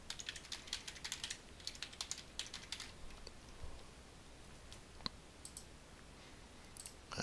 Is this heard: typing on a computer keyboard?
yes